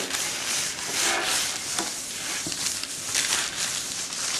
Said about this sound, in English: just lightly grease that so that the biscuits don't stick